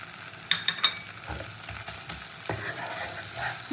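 Ground cumin and coriander with a paste of green and dried chillies being fried and stirred in a pan for vetki fish curry, a steady sizzle with a few sharp scraping clicks near the start, close and moderately loud.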